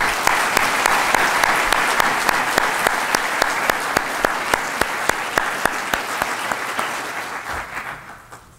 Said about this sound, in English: let's have another big round of applause for all our finalists